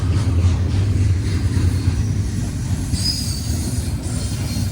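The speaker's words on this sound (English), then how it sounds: "This train must be 2 miles long." A very long freight train rolls past on a mountain pass in the Rockies, steady loud rumble of railcars with wheels squealing, continuous and close throughout.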